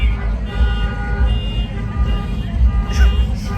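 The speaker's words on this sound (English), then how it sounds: "blowing horn." Car horns blaring at a car meet outdoors, a loud sustained honking tone with engine rumble and crowd noise underneath, plus a shorter higher honk near the end.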